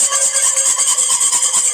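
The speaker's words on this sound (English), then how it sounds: "I like a whisk because it makes it a little more evenly" Maple bourbon BBQ sauce being whisked in a bowl, a steady rapid scraping and swishing with an even back-and-forth rhythm, close and fairly loud, no talking.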